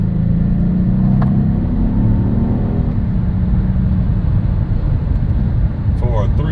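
A 2019 Genesis G80 with a 3.3 liter engine accelerates in sport mode, its engine drone climbing steadily in pitch over heavy road rumble inside the cabin.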